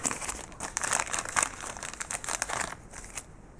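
Old nickel strips salvaged from other battery packs crinkle and rustle as they are handled at close range, a steady run of small crisp metallic crackles and rattles with no voices.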